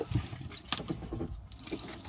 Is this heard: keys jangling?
yes